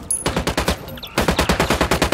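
Rapid automatic gunfire from the video game Ghost Recon Wildlands crackles in a short burst, pauses briefly, then resumes as a steady rhythmic stream of loud, close shots.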